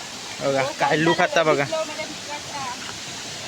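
The Sawdav waterfall on a Konkan river makes a steady broadband rush under a person speaking excitedly nearby. The water noise carries on faintly once the talking stops.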